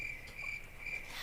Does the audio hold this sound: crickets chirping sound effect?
yes